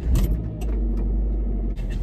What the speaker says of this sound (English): I've just got in my car and now we're going to drive to the station